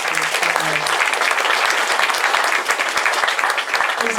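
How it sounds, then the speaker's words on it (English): An audience at an expert panel evening claps in sustained, dense applause after opening remarks, filling the room evenly from start to finish, with a brief voice audible near the beginning. "Please, a round of applause."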